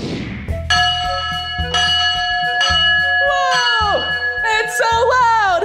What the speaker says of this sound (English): That was a really loud bell from this big steam train!